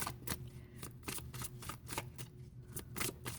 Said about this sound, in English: Just a couple shuffles here, guys.